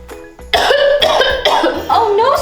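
A voice coughs several times in quick, harsh bursts, close and loud, with a bit of voiced sound between coughs.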